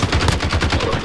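Rapid automatic gunfire from the video game Call of Duty: Modern Warfare, a loud, continuous burst of closely spaced shots rattling steadily for about a second with no pauses.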